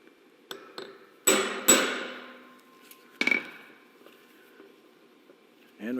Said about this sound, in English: we now need to stake the new pinion nut